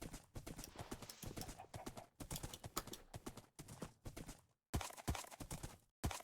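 Horse hooves clip-clop steadily on the ground in a video game, a loud, close rhythmic run that pauses briefly twice before resuming.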